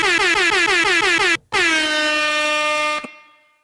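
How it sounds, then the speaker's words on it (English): A loud, harmonically rich air horn blares in rapid pulsing honks, breaks off briefly, then sounds one long sustained blast before cutting out. "How many times do you think I can hit that air horn before it starts to become annoying"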